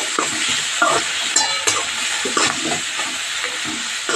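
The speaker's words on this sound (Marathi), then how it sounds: "ते पण तेलामध्ये चांगलं भाजून घ्यायचं आहे मसाला." Ground homemade masala of cumin, turmeric and garlic frying in oil with onion, sizzling steadily as a spoon scrapes and stirs it, with several sharper clinks of the utensil against the pan.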